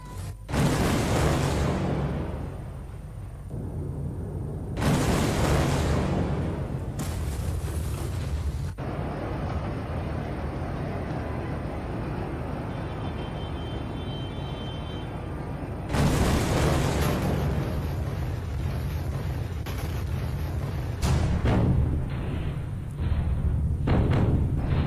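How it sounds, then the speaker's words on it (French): The massive explosion at the port of Beirut, Lebanon, comes through as loud, deep rumbling booms with roaring broadband surges that swell, cut off and return across the clip. "Il y a eu une massive explosion"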